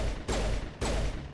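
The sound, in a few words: gunfire in video game Mass Effect Legendary Edition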